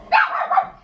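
A single short, sharp dog bark rings out close by, loud and clear with a slight trailing yelp, heard alone.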